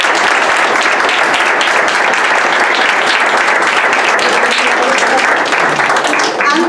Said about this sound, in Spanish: Un aplauso a todos los participantes.